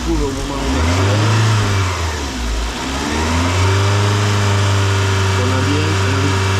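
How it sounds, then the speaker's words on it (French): A car engine idles and revs up loudly, the pitch rising and settling, with a continuous whooshing flow of circulating coolant beneath during a head gasket check, and a voice talking over it. "on entend le retour du liquide de refroidissement."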